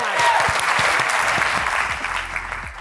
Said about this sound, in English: Please help join me in giving a big round of applause to Trey and Chelsea